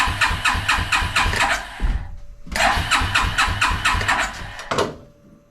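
A Suzuki King Quad ATV starter cranks rapidly in two loud bursts separated by a brief pause, the second ending with a short catch before fading, with no voices.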